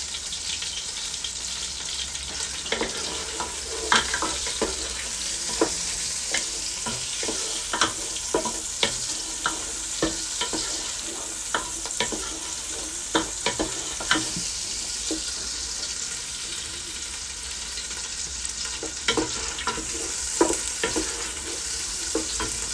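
Prawns frying in a pan give a steady close sizzle throughout, broken by frequent sharp scraping and tapping from stirring at an irregular rhythm.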